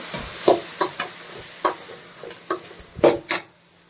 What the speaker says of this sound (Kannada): ಈಗ ಟೊಮೆಟೊ ಸಹ ಹಾಕ್ಕೊಳ್ತಾ ಇದ್ದೀನಿ ಇದು ಟೊಮೆಟೊ ಒಂದು ಸ್ವಲ್ಪ ಚೆನ್ನಾಗಿ ಫ್ರೈ ಆಗಬೇಕು